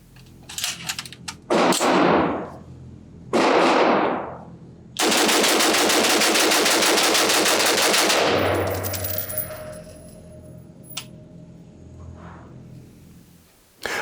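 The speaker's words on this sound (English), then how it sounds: "I'm just going to do the obligatory mag dump" A B&T Haenel CR223 BT-15 pistol fired rapidly in a magazine dump at an outdoor range, loud bursts of sharp shots in several strings with echoing tails, the longest run lasting about three seconds.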